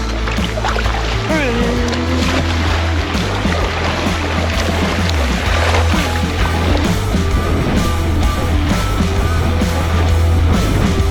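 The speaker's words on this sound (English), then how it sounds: "you have to kind of match cadence with your paddle strokes so that you can tell which hull shape is faster" Two NRS inflatable kayaks, a Pike Pro and a Kuda 126, racing side by side, with steady paddle splashes and water movement close by under constant wind and hull noise throughout.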